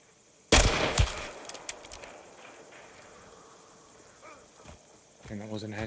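In the video game Hunt: Showdown, one loud, sharp gunshot cracks out and trails into a few fainter reports and clatter, then a voice starts speaking near the end.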